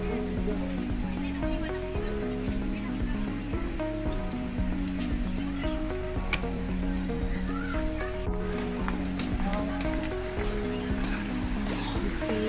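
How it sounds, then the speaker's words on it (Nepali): Water rushes and gurgles steadily in a stream at a park in Dharan, Nepal, making a continuous close flow with faint bird and voice sounds mixed into the background. "यसरी पानी जान्छ"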